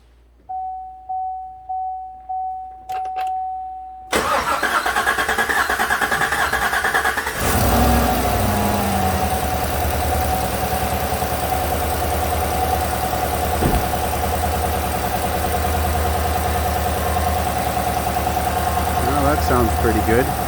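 A 2015 GM truck with a swapped 5.3 engine: after several rhythmic warning chimes, the starter cranks and the V8 catches with a loud surge, then settles into a steady idle.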